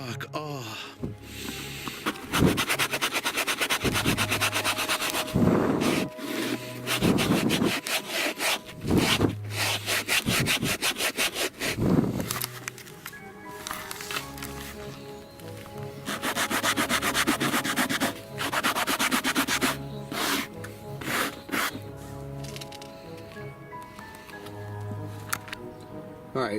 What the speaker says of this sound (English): I hit this with the sanding block quite a bit all over